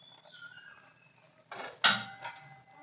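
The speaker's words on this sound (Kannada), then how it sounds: "ಬರೀ ಕುಕ್ಕರ್ ಮುಚ್ಚಳ ಮುಚ್ತಾ ಇದ್ದೀನಿ" A pressure cooker lid is pushed shut in a home kitchen, giving a single sharp metallic clack, with a few faint scrapes and clinks around it in an otherwise quiet room.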